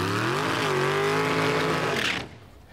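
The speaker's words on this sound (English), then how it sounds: "The car doesn't accelerate very fast here. Why? It's spinning the tires." A car spins its tires while pulling away slowly at a night motorsport event, giving a loud, steady engine whine mixed with rough tire noise that holds for about two seconds and then cuts off abruptly.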